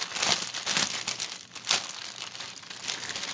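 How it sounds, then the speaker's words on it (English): A large plastic bag from cross-stitch kit packaging crinkling and rustling in bursts, close up and fairly loud, with brief crackly peaks and no talking. "They give you this huge, ginormous plastic bag."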